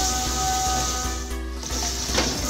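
Spices frying with beef in a pot for Hyderabadi beef tahari, a steady close sizzle with faint stirring scrapes and no talking.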